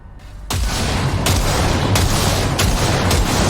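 Gunfire at practice targets in the video game Cyberpunk 2077: a loud, sharp shot followed by several more spaced single shots over a dense, sustained background roar.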